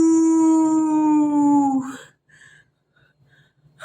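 A lone jackal howls in the distance as a sound effect, a long, drawn-out wavering cry that slides down and fades, followed by faint yips.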